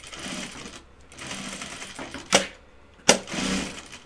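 A sewing machine stitches fabric in short runs of a steady mechanical whir, broken by two sharp, loud clacks and brief pauses.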